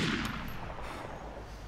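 A gunshot in the video game DayZ Mod for Arma 2 on Namalsk, one heavy boom at the start that decays into a long rumbling echo.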